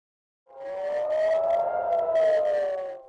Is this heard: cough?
no